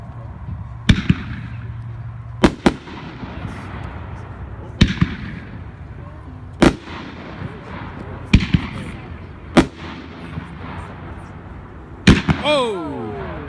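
A Shoot the Moon consumer firework cake fires shot after shot, seven or eight sharp launches and bursts spaced a second or two apart, loud and close outdoors, ending with a whistling tail.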